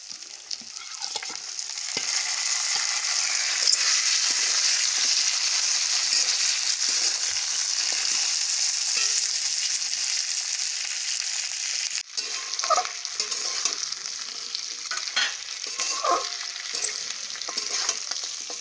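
Fried katla fish heads go into a kadai with rice and potato for muri ghonto. A loud, continuous sizzle is followed by repeated stirring scrapes and clatters, close and without speech.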